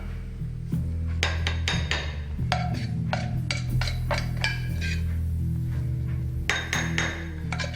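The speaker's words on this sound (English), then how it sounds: "we come over to the bowl and we put the quinoa into the bowl" Dry quinoa poured and scraped into a bowl with a utensil, a series of clinks, taps and rasping scrapes against the dish in an irregular rhythm, close and fairly loud.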